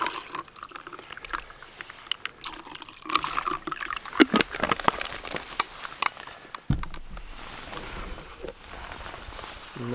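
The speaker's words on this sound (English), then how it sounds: "Top it up with a bit of water." Water is poured into a gin drink over ice in the open air, a gurgling trickle with clinks of ice and glass, close and moderately loud, followed by quieter handling sounds.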